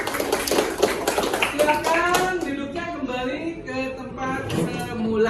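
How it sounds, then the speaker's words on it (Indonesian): A classroom of students claps their hands together in a dense, lively burst that runs under a teacher's speaking voice and children's chatter, close and fairly loud throughout. "tepuk tangan buat kita semua"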